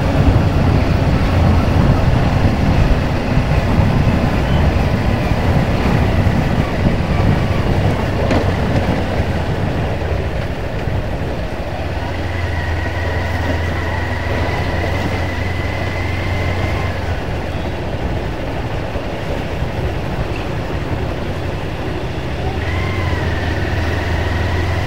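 A motorized tourist road train rumbles past close by through a village in Indonesia, steady engine drone, a couple of sustained horn-like tones sounding over the traffic noise.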